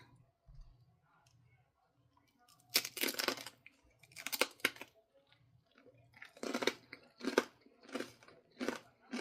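Crunchy chewing of cranberry and sesame seed crackers topped with cheese, meat and fig and honey jelly, close up, in several loud bursts after a quiet start, with faint murmurs between bites.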